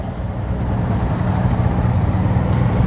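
A motorcycle engine held at low revs while the rider half-clutches to keep it from stalling, a loud, steady, close rumbling drone with no talking.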